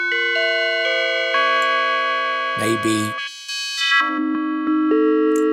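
Bell-like synthesizer patch in the Discovery Synth on an iPad, with bright ringing tones stepping through a melodic sequence, loud and clear, briefly interrupted by a noisy burst and a short spoken word.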